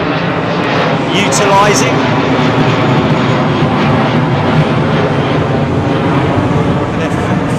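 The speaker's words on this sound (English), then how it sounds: "this is the Finnair 321 service that apparently BA are going to be" A Finnair Airbus A321 jet at Heathrow Airport gives a loud, continuous engine roar that fills the whole stretch, with someone talking over it.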